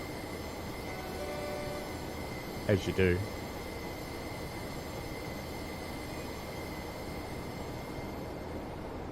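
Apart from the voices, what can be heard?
tram running on rails in Tram Sim video game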